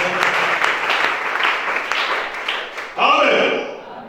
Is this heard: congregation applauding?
yes